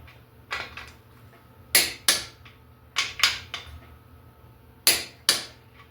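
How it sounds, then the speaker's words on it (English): Torque wrench working the bolts on a Ford 2.3 turbo short block, giving about nine sharp metallic clicks and snaps in uneven pairs, close and clear over faint background hum with no talking. "But we're going to torque it evenly on both sides."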